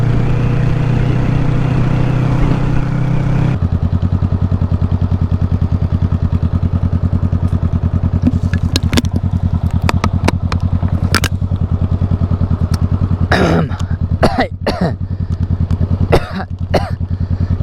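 Honda Rebel motorcycle with its muffler removed, engine running loud and steady throughout with a raw throaty drone, a pitch shift early on and scattered sharp crackles and pops later.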